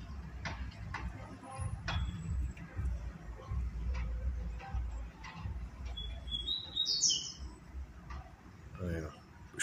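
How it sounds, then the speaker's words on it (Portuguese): A double-collared seedeater songbird gives a short burst of high, thin chirps, faint and somewhat distant, over quiet background rustling and ticking. "Passarinho respondeu no outro, legal."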